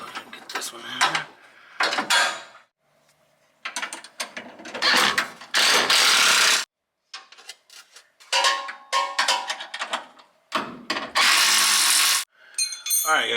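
Ratchet tightening bolts on a Ford driveshaft safety loop, heard as several bursts of quick clicking and mechanical whirring separated by short pauses, close by, with some talk between them.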